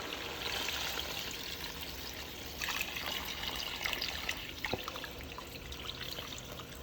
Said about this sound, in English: you are going to add a whole lot of water